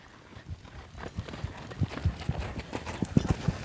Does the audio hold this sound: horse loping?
yes